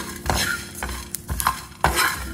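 Whole spices including black pepper, cumin and cloves frying on low flame in a pan for pork curry, a close sizzle punctuated by several loud spatula stirs and scrapes at irregular intervals.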